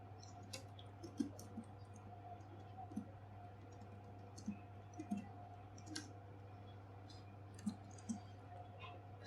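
Keys on a computer keyboard are pressed while a Linux terminal command is typed: sparse, soft clicks at irregular intervals, faint and close, over a low steady hum.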